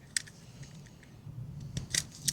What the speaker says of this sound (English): so we'll just cut this off.